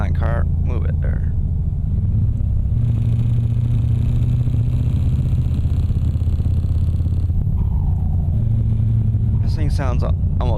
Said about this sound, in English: This thing sounds almost like a Harley instead of a truck.